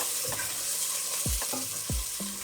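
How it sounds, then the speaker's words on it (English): Onion frying in a pan, a constant hiss of sizzling oil with a few spoon or spatula knocks against the pan as it is stirred. "You just fry the onion"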